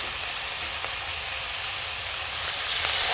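Water poured into a hot pan of parshe fish curry with mustard paste, brinjal, potato and young cauliflower stalks sets off a steady, loud hiss and sizzle that stays even and swells slightly toward the end.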